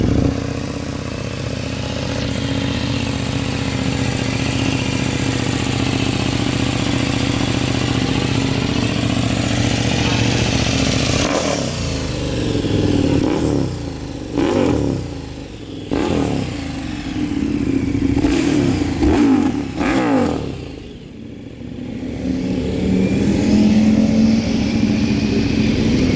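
KTM 1390 Super Duke naked motorcycle idling in neutral, loud and close, then blipped through several sharp revs before settling back to a steady idle.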